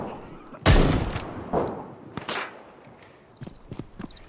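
Sharp gunshots fire in a survival video game, a loud crack followed by a few scattered further shots and thuds, with a voice talking faintly in the background.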